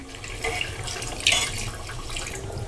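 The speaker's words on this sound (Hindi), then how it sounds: "अब इसमें एक गिलास पानी ऐड कर देना है" Water from a glass poured into a yogurt mixture for mutton korma in a home kitchen, a steady splashing pour with a brief louder gush partway through, close and alone.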